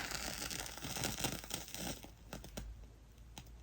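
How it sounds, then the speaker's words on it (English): A cotton fire starter puck is cracked and twisted by hand, giving a close, quiet run of fibrous tearing and crinkling rustles with a few sharper snaps near the end. "Now I find the best thing to do is crack it and twist, because what you're doing is exposing the cotton."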